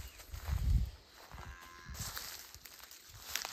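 A bullock at a cattle sale lets out one low, deep moo near the start, followed by quieter ambient rustling and faint movement sounds.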